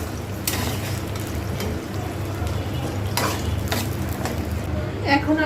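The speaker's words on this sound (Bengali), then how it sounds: "রসুনটা হালকা ভাজি হতে দিতে হবে" Garlic fries in a pan for beef pickle, giving a steady sizzle under repeated scraping stirs of a utensil against the pan, close and fairly loud.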